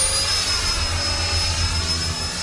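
A Freewing Gripen RC model jet passes overhead with a steady, loud, hissing turbine whine that holds constant throughout.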